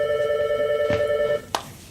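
A telephone bell rings with a steady electronic tone on a theatre stage, stops after about a second and a half, and a short clack follows, as if the handset is lifted.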